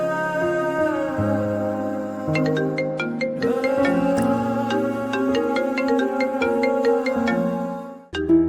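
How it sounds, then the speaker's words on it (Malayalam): A mobile phone ringtone plays a bright melodic tune of repeating chiming notes for several seconds, loud and close, cutting off near the end. "ഫോൺ എടുക്കാത്തെ?"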